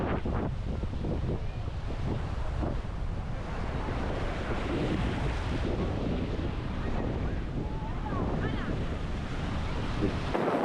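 Choppy sea in a bay near Otranto, with steady, rough surf and strong wind buffeting the microphone throughout, a continuous loud wash with no clear voices.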